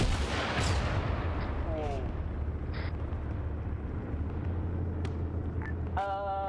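Rocket blasts and gunfire rumble through a tank mechanized assault in the military video game Arma, dense low booms with sharp bursts, plus a few tonal beeps and chirps near the end; no voices are heard.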